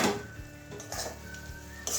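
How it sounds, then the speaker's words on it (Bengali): Metal lid lifted off a pan of bitter gourd with mustard paste cooking on the stove, a clatter of metal with a faint sizzle beneath, close and quiet. "এবারে ঢাকনাটা খুলছি"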